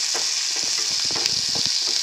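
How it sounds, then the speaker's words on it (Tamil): Onions sautéing in a pan for capsicum gravy, a steady bright sizzle with repeated soft scraping strokes of a spoon stirring through the pieces, close and continuous with no talking. "அதுக்கு மேலே வெங்காயத்தை போட்டு வதக்கணும்."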